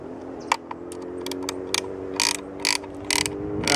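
A wrench tightens a bolt on a wooden-stocked M11 bullpup rifle, giving several short, sharp ratcheting clicks in uneven bursts over a steady low background hum, close and fairly clear.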